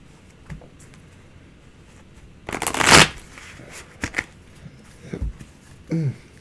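Tarot cards are shuffled by hand, close and crisp: scattered soft card taps, then a dense riffling burst lasting about half a second, followed by a few shorter shuffles and slides.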